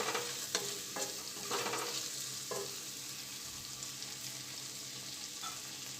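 Cashew pieces and melon seeds fry in hot oil in a pan, a soft steady sizzle broken by several scraping stirs of a spoon, with no one speaking.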